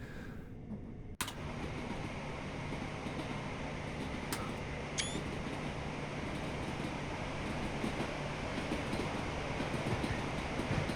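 Trains in the video game Train Sim World 2 on the London Gatwick Express route rumble steadily at a busy station, with a sharp clunk near the start and a few faint metallic squeals over the continuous low drone.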